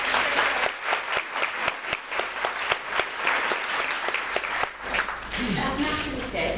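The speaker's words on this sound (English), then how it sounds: "So big round of applause for Heidi." Audience applause for a speaker at an assistant practitioner education event, dense and loud clapping from a room of people that carries on steadily before tapering, with some voices mixed in.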